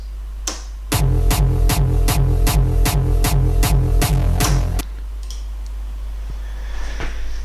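A final rendered kick drum sample for a tutorial, struck about nine times in a steady, even rhythm, each hit loud and punchy with a deep booming low end, followed by a quieter tail of faint background noise.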